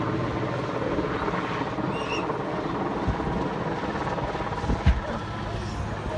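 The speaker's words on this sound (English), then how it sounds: "This helicopter dropping a car." A helicopter drones steadily overhead during a car-drop stunt at an air show in Iceland, its rotor noise continuous and moderately distant, with a couple of faint thuds.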